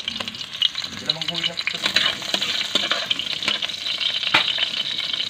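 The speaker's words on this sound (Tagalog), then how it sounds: "Gisa na natin kaprobinsya hanggang lumabas yung manteka." Beef fat sizzles and crackles in a hot pan while being sautéed to render its grease for pinapaitan, a steady frying hiss broken by stirring scrapes and pops.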